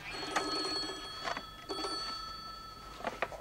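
An old telephone bell rings in short bursts, three rings spaced about a second apart, with a steady electrical hum running underneath.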